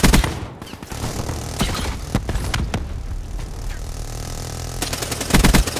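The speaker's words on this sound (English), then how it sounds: "Put down a lot of shots on that guy." Dense, loud gunfire fills a first-person shooter match, sharp shots crackling in rapid overlapping volleys with no talk heard over them.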